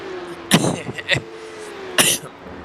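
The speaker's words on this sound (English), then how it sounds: "So I guess I can't laugh, and I just cough." Two bursts of coughing, a harsh double cough followed by a single sharp one, close and loud over a low steady hum.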